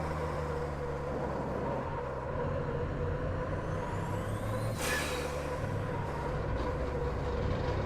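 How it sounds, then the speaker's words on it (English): A massive Iveco Formula Truck races at Interlagos in the Automobilista racing game, its steady engine drone broken midway by one loud, sharp hiss from the dump valve that fades back into the running engine. "Hear that beefy dump valve of this massive Iveco truck."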